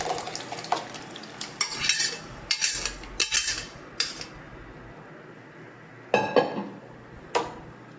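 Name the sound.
stirring pav bhaji vegetables in a pan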